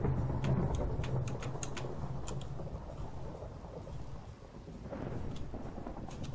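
Video game thunderstorm with steady heavy rain and rolling thunder, loud and continuous, with scattered sharper ticks and patters over the dense downpour.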